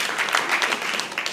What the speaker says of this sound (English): let's give her a round of applause for sharing